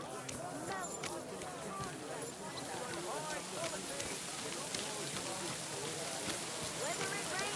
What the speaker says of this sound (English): Oh, don't mind the rain.